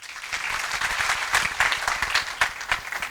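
An audience at a school debate in Kwale, Kenya applauds: dense, uneven clapping from many hands, with some louder individual claps standing out, lasting the whole stretch.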